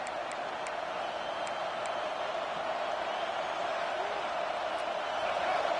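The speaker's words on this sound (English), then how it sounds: "Listen to this crowd just shaking the girders of this place, trying to help their defense" A college football stadium crowd roars to help its defense, a steady dense wall of noise with a few sharp whistles and a slight swell toward the end.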